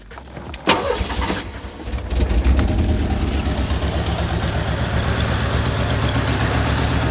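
A 1985 Merkur XR4Ti car engine cranks briefly, catches around two seconds in and settles into a loud, steady running idle close by.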